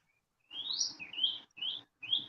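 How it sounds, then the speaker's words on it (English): Birds chirping on a call participant's end, four bright rising whistled chirps in quick succession, clear and moderately near over a quiet background, no talking. "No, it's birds."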